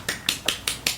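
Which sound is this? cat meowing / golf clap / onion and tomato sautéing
golf clap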